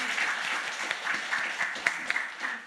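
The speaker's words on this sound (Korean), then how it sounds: "우리 하나님께 영광의 박수 올리겠습니다." A church congregation claps together during a Sunday morning service, a dense, fairly distant burst of applause that stays steady throughout.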